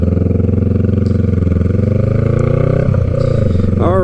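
A Honda Rebel motorcycle on a ride, its engine droning steadily and loudly throughout, with the pitch shifting slightly as it changes speed near the end.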